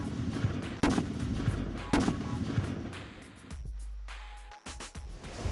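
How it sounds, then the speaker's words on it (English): Explosions from blowing stuff up, loud booming blasts recurring every second or so in a rough series, with heavy low rumble and a short quieter gap near the end before more bursts. "we're blowing stuff up"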